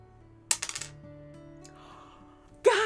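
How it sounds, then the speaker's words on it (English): Small dice rattle and bounce across a surface in a quick clattering burst that settles within half a second, followed by a quiet stretch and a loud sudden sound at the end. "I've got my handy dandy little dice over here, and we're gonna roll to see what difficulty we play on today."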